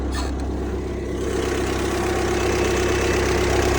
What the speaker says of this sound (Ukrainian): Сразу показую як двигун працює.